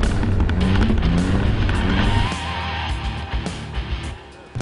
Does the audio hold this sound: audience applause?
no